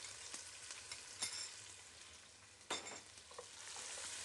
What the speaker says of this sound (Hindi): ये 6 टेबल स्पून मैंने कुकिंग ऑयल के डाले हैं और ये अब मैंने बारीक कटा हुआ प्याज डाल दिया है